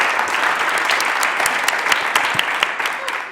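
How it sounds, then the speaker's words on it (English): Audience applause at a roundtable discussion event: a steady burst of clapping from a crowd, close and fairly loud, fading slightly at the end. "Okay, clap."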